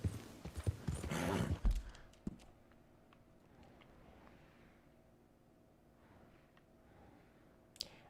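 A horse's hooves in Red Dead Redemption 2 clatter in a loud burst of quick steps at first, then fade to sparse, softer clops against a quiet background.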